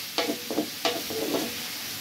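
Garlic and onion sautéing in a pan for dinuguan, with a few brief stirring scrapes and soft sizzles heard up close over a quiet background.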